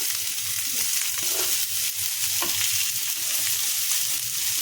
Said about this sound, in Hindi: इधर उधर भून लेंगे सही से, बहुत अच्छे से हो जाएगी।